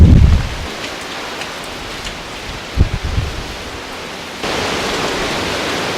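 Tropical storm wind and rain in Miami during Hurricane Irma, a steady rushing hiss of rain and gusts with a loud low buffet at the start and a brief thump midway, growing harsher toward the end.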